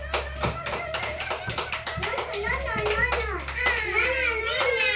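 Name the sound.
children clapping hands loudly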